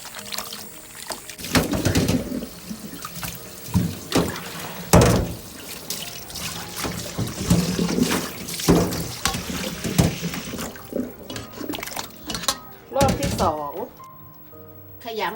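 Pork intestines washed by hand under running water, giving a continuous splashing and sloshing with repeated louder surges, and a voice speaking briefly near the end.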